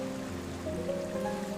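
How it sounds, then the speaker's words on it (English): Rain falls at night in a village as a soft, continuous wash of hiss and patter, steady and fairly faint with no voices over it. "The rain is relentless tonight."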